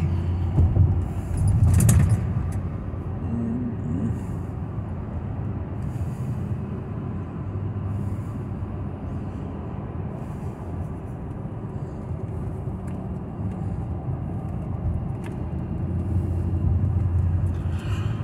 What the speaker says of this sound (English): I'm not driving fast. I just want you to drive smooth.